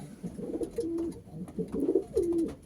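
Racing pigeons feeding in the evening give repeated soft, throaty coos close by, in short rhythmic bursts with brief gaps between them.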